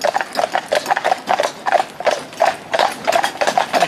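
Friesian horses pulling a cart on a road, with loud, close hooves clip-clopping in a steady quick rhythm alongside rattling harness and wheel noise.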